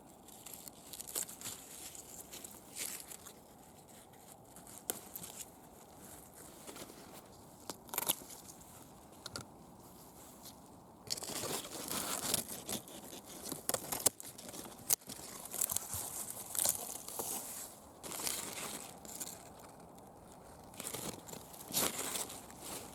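Uchiki Kuri squash being cut from the garden plant in September, with crunchy tearing and crinkling of stems and leaves that grows busier and louder partway through, close up with no talking.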